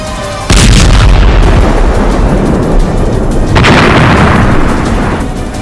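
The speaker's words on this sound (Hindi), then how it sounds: "हिमार्स रॉकेट जोरदार धमाके के साथ उसे तबाह कर डालता है" A HIMARS rocket strike explosion: a huge, sustained rumbling blast erupts suddenly and rolls on for several seconds, with a second surge of roaring noise midway, loud and close.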